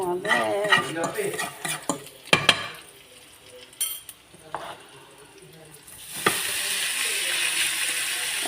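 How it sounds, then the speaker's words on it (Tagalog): A spatula stirs and scrapes garlic fried rice in a pan after frying egg, Spam and squid, with clanking metal, a light sizzle building toward the end, and a brief spoken word. "Nagsasangag na lang tayo."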